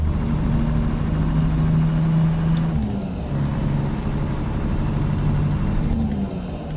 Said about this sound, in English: the sound is an open beta sound from Slav Jerry. It's not released yet, so it's C15 Assert, his new version